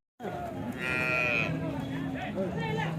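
A cow at the Chintamani Sunday cattle market gives a long, close, loud moo that rises and then trails off, with faint market chatter behind it.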